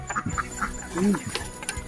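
Chickens cluck in a Phu Tai village in Laos, with a few short clucks spaced across the moment amid scattered rustling and faint background voices.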